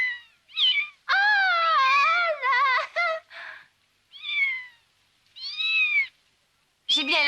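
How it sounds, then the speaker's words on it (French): A kitten meows repeatedly in a series of high, clear cries, some long and wavering, others short, heard close and loud with brief pauses between calls. "Je n'ai jamais vu un petit chaton aussi mignon."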